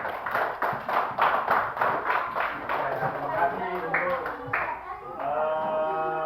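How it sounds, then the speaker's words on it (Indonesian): Schoolchildren in an elementary classroom clap for the first group in a quick, regular rhythmic beat of about a dozen unison claps, after which a teacher's voice speaks over the fading sound. "beri tepuk tangan untuk kelompok 1"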